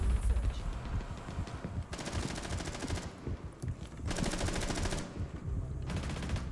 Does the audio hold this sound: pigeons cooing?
no